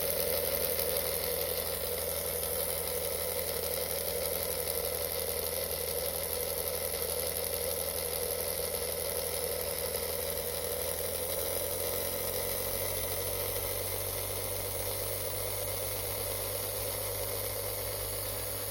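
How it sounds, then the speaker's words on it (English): A small HO-scale slot car motor runs in at low voltage after oil drops on the rear brush, giving a steady, close mechanical hum with a faint rattle that holds throughout and dips slightly in pitch partway. "I run it at low voltage, run it for a little while until the motor peaks, and then keep raising it"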